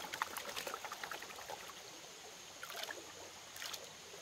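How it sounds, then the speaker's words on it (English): Water sloshing and trickling in a gold prospector's finishing pan as material is panned down, soft intermittent swishes and pours up close, with no voices. "We'll go ahead and pan it down further."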